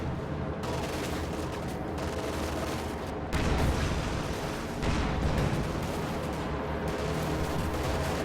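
Anti-tank strafe in a WWII strategy video game: a dense, continuous rattle of rapid gunfire and blasts, steady and loud, with two sharper surges partway through and no voices.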